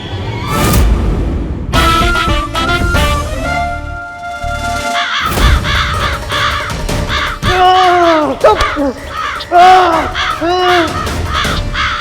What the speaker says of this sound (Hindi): फिर से कौवे नहीं, कौवे नहीं, कौवे नहीं, कौवे नहीं।